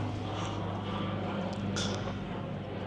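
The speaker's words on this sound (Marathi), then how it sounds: "हे मिलिटरी प्लेन" Military plane droning overhead near an airfield, a steady low engine hum with a constant tonal rumble, moderately distant and even throughout, with a faint brief higher whine near the end.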